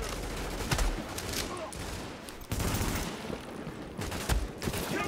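Enemy gunfire in the video game The Division rattles in dense, continuous bursts of loud shots close by, with sharper cracks scattered through it.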